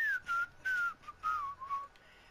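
A lone whistled tune in short melodic phrases, clear and fairly close, with brief pauses between notes and no talking over it.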